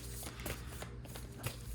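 A deck of oracle cards is shuffled by hand, giving soft, quiet riffling and papery flicks in a short burst.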